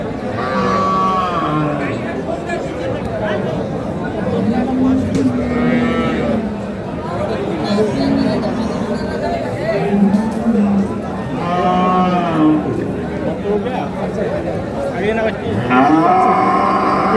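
Dairy cows and calves of Sahiwal, Sindhi and local breeds low repeatedly at a busy village cattle market, long drawn-out moos rising near and far while people talk and haggle throughout.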